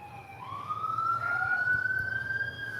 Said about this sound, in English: Oh my god, the ambulance again?